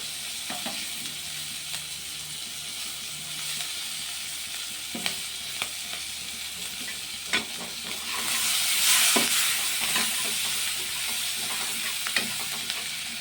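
Onion and red chilli frying in oil for a hilsa fish dish, a continuous sizzle broken by scattered utensil taps and stirring scrapes, swelling briefly louder partway through.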